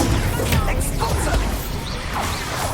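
Expulso blasting spell in the video game Hogwarts Legacy, a heavy explosive crash with crumbling debris and whooshing magic over a dense, busy combat soundscape, with a character's shouted voice mixed in.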